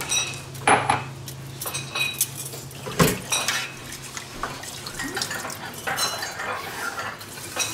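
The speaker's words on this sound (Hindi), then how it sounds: "तो 2 कप हमने इसमें चावल डाले हैं राइस कुकर में।" Basmati rice going into a rice cooker in a home kitchen: metallic clatter of pot and utensils with sharp clinks and scraping, mixed with running water and drips, close by and busy, no talking.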